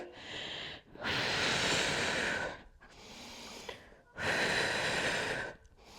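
Deep, loud breaths during an abdominal and back workout: two long forceful exhales alternate with quieter inhales in a steady rhythm, close up, with no talking.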